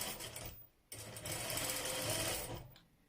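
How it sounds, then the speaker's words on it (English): A sewing machine runs a top stitch along layered crinoline in a ruffled-hem baby dress, whirring in a short burst, pausing briefly, then running steadily for over a second before stopping. "Top stitch slightly."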